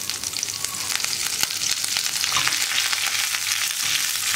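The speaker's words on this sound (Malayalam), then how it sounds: "കടുകൊന്ന് പൊട്ടി വരുമ്പോൾ ഒരു 3 വറ്റൽമുളകും കൂടി ആഡ് ചെയ്യുന്നുണ്ട്." Mustard seeds, dried red chilies and curry leaves fry in hot oil for a Kerala drumstick-leaf dal, giving a steady, close crackling sizzle with a few sharp pops and light stirring throughout.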